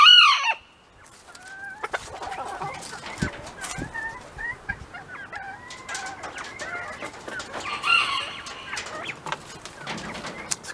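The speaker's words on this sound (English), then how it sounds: "I got some more young bantam hens" Young bantam hens cluck in a scattered, busy chorus, with a close squawk at the start and a rooster crowing partway through, all at moderate volume and with no talk.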